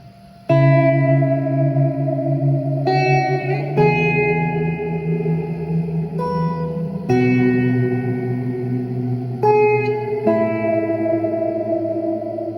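Clean, sustained guitar chords played through a Boss ME-20 multi-effects processor with reverb added, each strum ringing out with a lingering wash of echo, several chord changes in a row and no talking.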